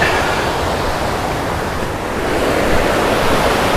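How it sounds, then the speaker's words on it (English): Loud, steady rushing of river water along the Laurel River Trail in Pisgah, a dense continuous roar close by with no voices. "And the water through here is just moving out."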